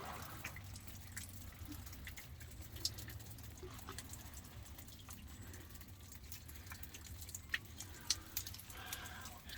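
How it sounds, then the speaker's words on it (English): Faint, scattered water drips plink now and then over a soft, steady background wash of running water. "just the sound of those drips"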